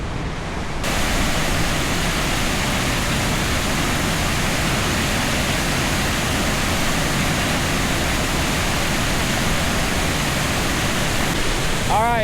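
A creek in the Laurel Highlands rushes steadily and loudly nearby, a constant broadband wash of flowing water with no break.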